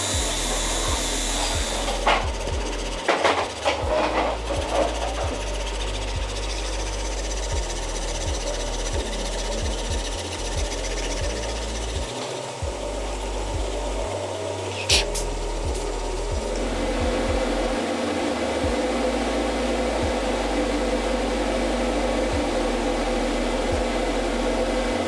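Grinding fine finish work on a knife made from shotgun steel, a continuous abrasive whir with uneven rumbling and brief scraping bursts that lasts the whole stretch and is fairly close and loud.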